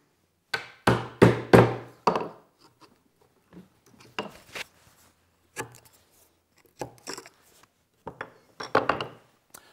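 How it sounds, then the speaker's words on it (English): A chisel and mallet square up mortises in hardwood desk legs, giving sharp wooden taps in quick bursts, then scattered single knocks and scraping pauses, close and clear with no talking. "I'm just squaring up the mortises that we made in the legs to match the tenons on the long stretchers"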